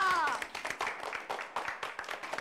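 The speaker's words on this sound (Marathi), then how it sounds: "टाळ्या." A studio audience bursts into applause on a Marathi TV comedy show as a performer is introduced, a dense, steady patter of many hands clapping with a voice briefly over the start.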